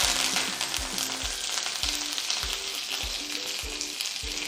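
Curry leaves sizzle and crackle in hot oil while frying for inji puli, a loud continuous hiss with repeated popping bursts, alone with no talk.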